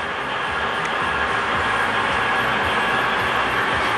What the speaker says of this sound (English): we have the train in the helix